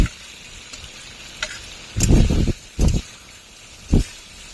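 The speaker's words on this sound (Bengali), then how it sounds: "ভেজে রাখা আলু আর ফুলকপি দিয়ে দেব" Fried potato and cauliflower pieces go into a pan of tomato masala for a rui fish curry, with a quiet background hiss broken by three loud bursts of sizzling and stirring.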